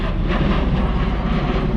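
A V-22 Osprey tiltrotor aircraft passes overhead above a peanut harvest field, a loud, steady, rumbling engine and rotor roar that fills the whole moment with no talking.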